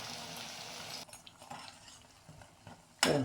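Curd vadai fry in oil and are turned onto both sides, giving a soft, steady sizzle with light utensil scrapes and a sharper clatter near the end, close and quiet.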